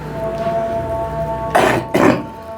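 Two hoarse coughs come in quick succession from a person who is unwell, close and loud over a steady background hum, with no talking.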